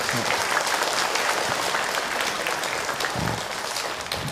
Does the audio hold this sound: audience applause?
yes